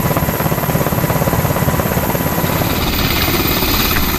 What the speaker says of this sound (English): soon board an HS-60 Seahawk helicopter and leave Nimitz